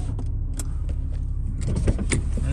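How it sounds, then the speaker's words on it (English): Electric windows on a 2009 Porsche Carrera 4S close after the convertible roof latches, a short motor whir with small mechanical clicks and thumps, close and moderately loud, no voices. "The windows come up."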